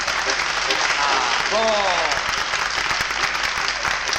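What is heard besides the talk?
audience applause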